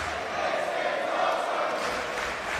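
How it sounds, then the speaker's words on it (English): A live pro wrestling crowd at a Pro Wrestling World Cup bout roars and cheers in a dense, continuous wash of voices, steady and loud for the whole short stretch. "Live crowd loving what they're seeing."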